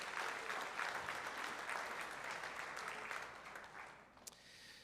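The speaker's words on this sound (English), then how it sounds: "One more round of applause for Marianne Matson," A fairly distant round of audience applause for a Hall of Fame inductee at a high school athletics induction ceremony, steady clapping that gradually thins out and fades near the end.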